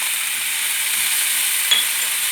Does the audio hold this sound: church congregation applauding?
no